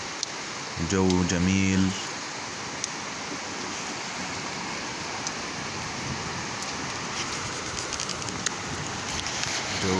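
Heavy rain in Amman, Jordan, during a strong storm system, a dense broadband hiss that runs throughout, with someone speaking briefly near the start.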